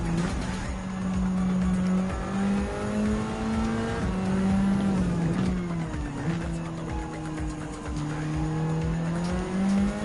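Race cars in Gran Turismo 7 roar loudly and continuously, with engine pitch rising and falling through gear changes and tires squealing through corners, the engine drone filling the whole stretch with no talking.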